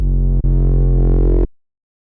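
A Serum 2 bass synth patch run through tube distortion, soft clipping and OTT compression plays one loud, buzzy sustained note with a brief dropout near the start, then cuts off into silence.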